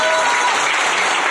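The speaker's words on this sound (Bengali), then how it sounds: "আপনার এনার্জি এখন কি আছে একবার হাততালি দিয়ে বোঝান তো।" Audience at a boot camp session in Digha clapping together, a dense, steady burst of loud applause filling the whole moment without pause.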